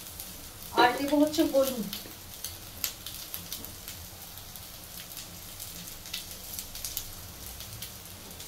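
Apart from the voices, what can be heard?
taro pieces frying in a pan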